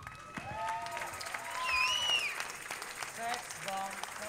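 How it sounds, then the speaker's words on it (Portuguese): Audience applause at a Portuguese university tuna (student music group) performance, a crowd clapping steadily with cheers while voices talk and whistle-like tones sound over it. "uma salva de palmas para vocês"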